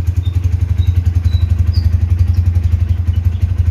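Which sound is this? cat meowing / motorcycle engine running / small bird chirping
motorcycle engine running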